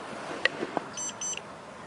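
Short electronic beeps and chirps from a satellite meter sound in quick succession, followed by two brief higher tones, over a faint background hiss.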